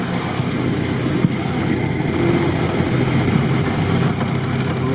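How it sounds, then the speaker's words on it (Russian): A tractor engine drones steadily as it tows a Volvo Laplander off-road in a trophy rally, a continuous low mechanical hum with no talk. "Вот так трактор нас катает."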